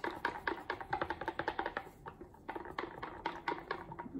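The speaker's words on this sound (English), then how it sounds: "I'm gonna start by mixing with a little bit of a plastic whisk here." Plastic whisk stirring cold process soap batter in a bowl, a quick irregular run of light clicking, tapping strokes close by, with a brief pause midway before the whisking picks up again.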